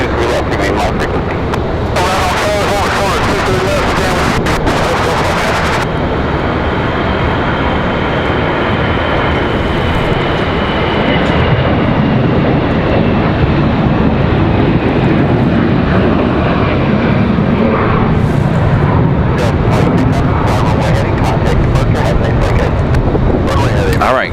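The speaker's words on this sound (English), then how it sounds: "you'll have those GEs firing up in just a moment" Airbus A321 GE jet engines spool up at night at Raleigh Durham airport, a loud, steady roar that rises and thickens over time, with brief wind buffeting on the microphone.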